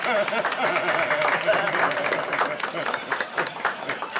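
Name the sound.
applause welcoming a show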